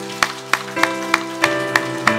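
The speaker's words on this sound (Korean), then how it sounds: "우리 하나님께 영광의 박수 한번 올립니다" A church congregation claps in unison, about seven sharp, evenly timed claps over sustained keyboard chords.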